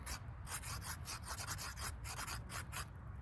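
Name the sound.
two rocks rubbed together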